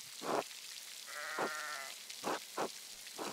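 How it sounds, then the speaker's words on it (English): Sheep bleat several times in the video game Pentiment, short separate calls with a longer wavering bleat in the middle, fairly near over quiet rain-like ambience. "I think I found Johan's last lost sheep."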